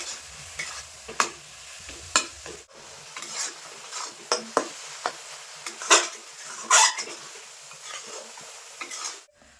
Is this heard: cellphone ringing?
no